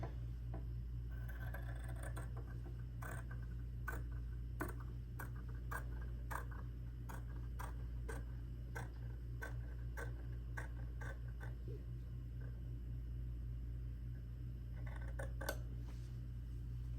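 Scissors snip through fabric just outside the stitching of a faux tea bag bookmark, a steady series of sharp, close clicks and cuts over a constant low hum, with no talking.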